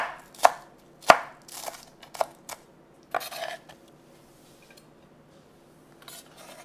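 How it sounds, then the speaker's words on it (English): A knife chops the green parts of vegetables on a cutting board, several sharp, close, uneven thuds in quick succession, then a pause and a few quieter cuts. "I cut the green part separately because I want to put this on the top"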